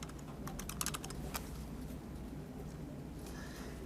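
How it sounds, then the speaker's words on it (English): Quick bursts of keystrokes clatter on a computer keyboard, faint and close, with a brief pause before a few more taps. "I'm going to type in Miami Springs."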